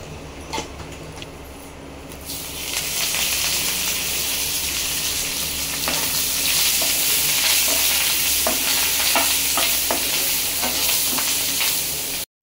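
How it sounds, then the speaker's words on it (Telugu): Green chillies dropped into hot oil with mustard seeds, a loud, steady sizzle rising sharply after a quieter start and continuing with scattered crackles and stirring scrapes, no talk. "ఇంకా ఇప్పుడు ఆవాలు చిటపట అనేసిన తర్వాత ఏమంటే పచ్చిమిరపకాయలు వేసేసుకోవాలి ఇలా"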